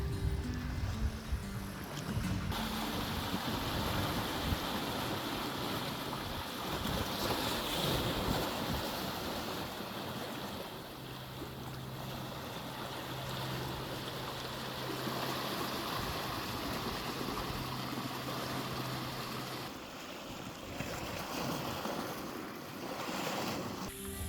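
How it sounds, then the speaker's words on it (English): Waves crash steadily on rocks along the Tasmanian coast, a continuous loud roar of surf with wind noise on the microphone and no voices. "listening to the waves crashing on the rocks next to us"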